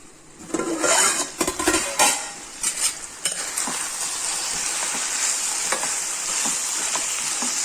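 Cooked tamarind and dal being mashed into a paste with a masher in a village kitchen: close clattering and squelching strokes in an irregular rhythm, then a steadier wet churning texture.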